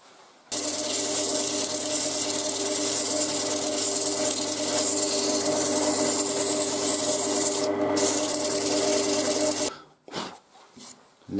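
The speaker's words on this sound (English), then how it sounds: "I'm just going to sand that up now." Sanding the edges of a wooden doughnut chuck spinning on a lathe: a steady, loud abrasive rasp over a constant motor hum, continuing unbroken before the machine winds down and stops near the end.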